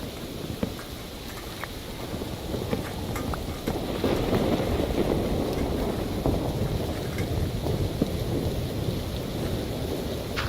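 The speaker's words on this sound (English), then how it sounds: "It's like you're in a home listening to the rain hit the tin roof" Video game rain falls on a tin roof with rolling thunder, a continuous close patter punctuated by scattered sharper drops and a low rumble that builds midway.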